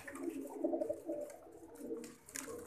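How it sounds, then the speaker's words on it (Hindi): Soft, low pigeon cooing repeats in rolling phrases, fairly quiet, with faint background noise and no voices. "ऐसे लगता है ब्रीडर कबूतर है"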